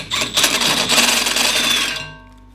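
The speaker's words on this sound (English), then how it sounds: "that's just an example right there of how quick and easy the step reamer is" A step reamer drilling a hole gives a loud, steady grinding whir for about two seconds, then spins down and stops, leaving a fading tail.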